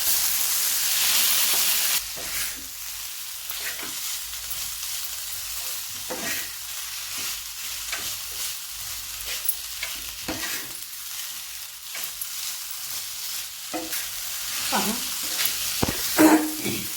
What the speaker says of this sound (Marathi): अशा पद्धतीने आपण परतून घेत आहोत